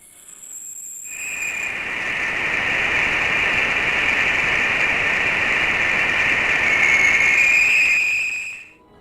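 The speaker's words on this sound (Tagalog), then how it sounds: "naitala ng aparato ang kakaibang tunog, isang monotonong ugong na may matinis na sipol" A recorded space sound from a probe near the heliosphere: a steady, monotone hiss-like hum carrying a piercing high whistle tone, fading in, holding for several seconds, then fading out.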